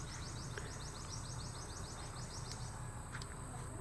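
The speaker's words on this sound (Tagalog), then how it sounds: "ibon lang ang maririnig mo" Birds sing on a quiet rural morning in the Philippine province, faint, rapid repeated chirps in steady runs over a soft background hiss, with no talking.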